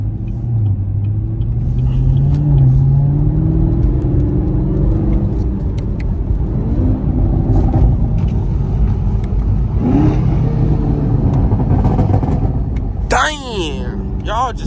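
A Chevrolet Camaro ZL1 1LE engine revving hard as the car accelerates, a loud sustained rising roar heard from inside the car, with a voice talking over it.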